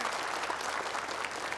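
A studio audience at a television talk show applauds a guest, a mother of boy-girl twins, with steady, dense clapping that fills the whole moment at an even level and carries no talk.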